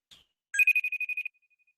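A telephone rings for an incoming call: a brief blip, then a fast electronic trill of about eight pulses, fading into faint echoing tones.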